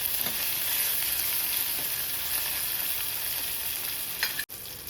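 Tomatoes cook in a pan for dal batti, giving a steady close sizzle with light stirring scrapes throughout, then cutting off abruptly near the end.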